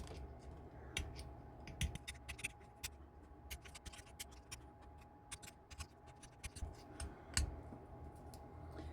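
An X-Acto knife chipping at a heavy Art Deco jewelry pendant, producing faint, irregular sharp ticks and scrapes in quick clusters against a quiet background.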